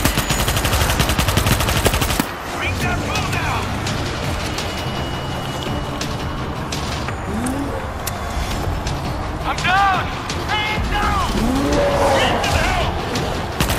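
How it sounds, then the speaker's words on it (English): Gunfire from a secondary weapon in the video game World War Z Aftermath, set in the Tokyo chapter, crackles in dense, continuous bursts under loud game noise, with a voice talking over it. "my secondary gun is not that strong actually."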